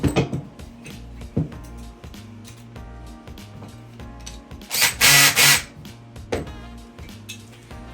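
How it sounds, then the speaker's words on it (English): A power drill tightens bolts while a single-can-mounted mountain hook with a 12-inch arm is put together. It whirs in short bursts between clinks of metal parts, close by, with one louder sustained run near the middle. "I will be using a drill, so we're not watching me crank these together for an hour"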